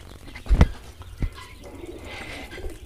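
Quail at a farm in Bakshiganj, Jamalpur, give two quick wing-flutter thumps followed by soft, low cooing calls against faint background noise.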